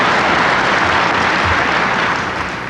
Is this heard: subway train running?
no